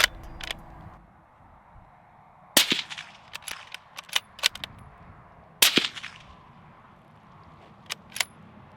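Suppressed 6.5 Creedmoor bolt-action rifle shots through an Aero Precision LAHAR-30 L silencer, firing 140 grain soft point rounds: two sharp cracks a few seconds apart outdoors, each followed by softer clicks and clacks from working the bolt.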